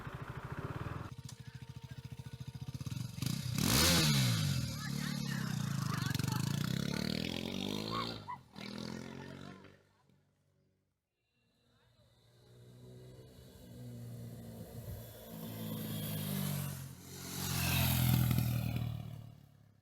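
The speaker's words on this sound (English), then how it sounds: "I'm done with the test ride of the KTM RC390" A KTM RC390 sport motorcycle engine revs and roars up and down during a test ride, rising and falling in pitch, with wind noise, a quiet dip midway, then revving again.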